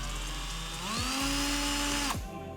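A power drill boring out a broken Torx bit during an RM250 dirt bike rebuild whines steadily and close, its pitch sliding down and back up as the load changes, with no talk.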